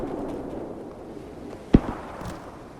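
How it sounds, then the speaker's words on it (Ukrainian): A single sharp blast in a Roblox game stands out over a steady noisy game background, short and punchy, followed by faint rumbling debris. "Ой, знову взірвалося."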